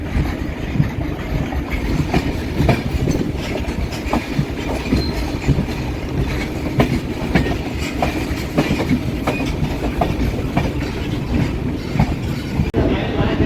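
Tamil Nadu Sampark Kranti Express pulling into Gudur station, wheels clattering steadily over rail joints with rumbling carriages and occasional squeals, loud and close throughout without talk.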